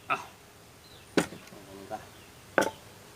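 A few sharp knife chops on a board, spaced irregularly, cutting curry paste ingredients, with faint background noise and no voices.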